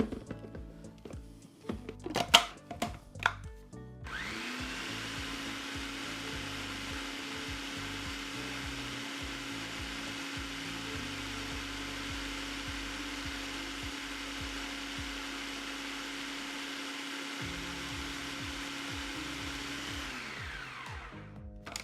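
Food processor whizzing leftover cheese into fromage forte, a steady, even motor whir running for about sixteen seconds after a few clunks and knocks, then stopping abruptly.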